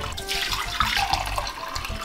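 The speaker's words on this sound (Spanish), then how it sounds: "Ponemos el agua a hervir." Water pours steadily from a tap into a cooking pot, being filled to boil for rice pudding, a short continuous splashing gush heard up close.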